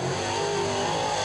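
Monte Carlo race car on a qualifying run at Wartburg Speedway, its engine droning steadily at mid pitch throughout a short stretch, loud and close without a break.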